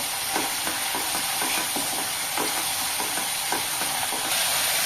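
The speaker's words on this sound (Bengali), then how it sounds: "খুব ভালোভাবে আমাকে মশলাটাকে ভেজে নিতে হবে বন্ধুরা।" Spice masala of ground coriander frying with boiled potatoes and peas, a loud continuous close sizzle with soft repeated scraping of a stirring spoon, no voices.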